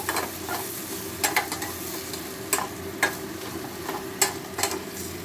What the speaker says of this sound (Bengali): দিয়ে আবারও একটু মশলা মাখিয়ে নিয়ে ভেজে নেব।